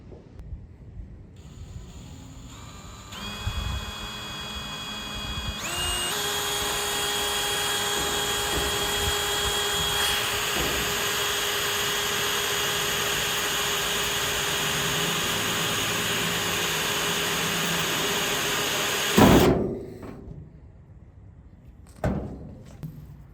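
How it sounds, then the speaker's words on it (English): A power drill whines steadily for a long stretch, rising in pitch as it bites into the metal hood of an old Ford Bronco, then stops with a few clunks. "always could drill more holes in my hood"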